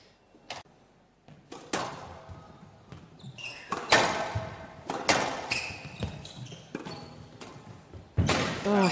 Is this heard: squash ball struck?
yes